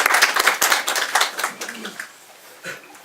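Brief clapping at a New Year press conference of the Busan education office, a few scattered sharp claps that quickly thin out and fade, with a faint voice near the end.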